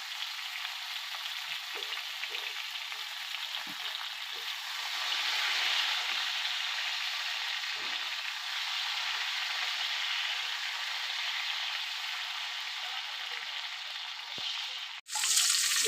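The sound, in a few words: eggplant with salt and turmeric frying in oil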